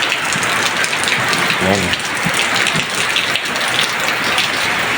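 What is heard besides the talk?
heavy rain falling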